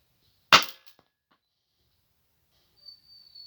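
A single sharp, loud gunshot from a Roblox video game weapon fires aimed at a wall, with a short decaying tail followed by near silence and a faint high tone near the end.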